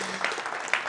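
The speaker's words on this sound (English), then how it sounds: "Let's have another applause." Conference audience applause, a short burst of crowd clapping with a couple of sharper claps standing out in a large room.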